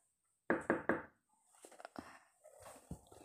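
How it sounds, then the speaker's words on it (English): Three quick firm knocks on a wooden door, close and distinct, followed by faint shuffling and soft thuds in a quiet room. "You knock on Robaire's door to, like, see if he was okay"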